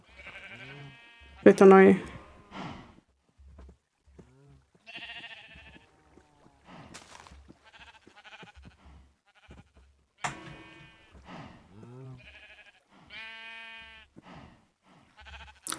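Sheep bleating in a video game, a few short nasal bleats scattered between a player's casual talk, with soft game sound effects around them.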